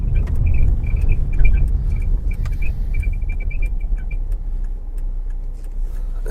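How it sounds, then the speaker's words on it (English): A car with a recurring squeak while driving, short high chirps repeating irregularly over steady road and engine rumble, no talking. "The car is still squeaking, as you probably heard between the edits."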